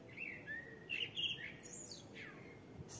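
Several small birds chirp and tweet outdoors in short bright bursts, moderately close, over a soft steady background hiss with no voices.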